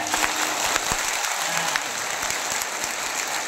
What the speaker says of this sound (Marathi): टाळ्या बघू टाळ्या